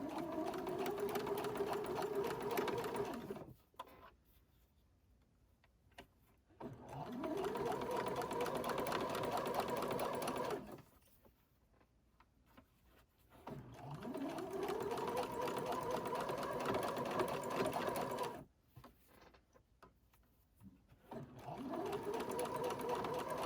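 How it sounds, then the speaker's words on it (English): A sewing machine stitches fabric for a newborn elf outfit in several steady whirring runs of a few seconds each, separated by short pauses, with a voice talking quietly in between. "We're going to switch it back to the left side stitching."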